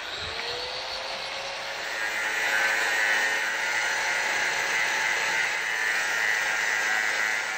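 A DeWalt 6-inch angle grinder with two guards cutting and throwing sparks, a continuous high whining grind that swells slightly after a couple of seconds and holds steady, loud and close.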